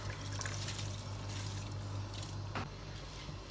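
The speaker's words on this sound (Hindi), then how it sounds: "अब ऐड करते हैं इसके अंदर चावल।" Soaked, strained rice goes into boiling water for a vegetable pulao, giving a soft watery splash and trickle over a steady low hum of the stove, fairly faint, with a short clatter near the end.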